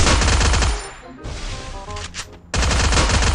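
Rapid automatic gunfire from an upgraded weapon in a mobile shooter game, loud and close, in dense bursts that pause briefly mid-clip before resuming at full intensity.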